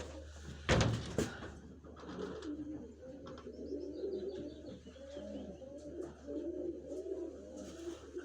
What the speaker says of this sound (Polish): to jest ten gołąb